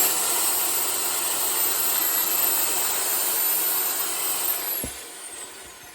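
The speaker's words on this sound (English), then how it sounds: "universal impact drill with some with a drill head like this, with a brush, and just work your way all around the place" Universal impact drill spinning a wire brush head to clean the rear brake hub of a 2012 Range Rover Sport SDV6, a loud steady whirring grind that holds for several seconds before winding down and fading.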